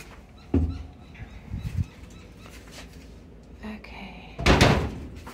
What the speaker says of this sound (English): I open this front door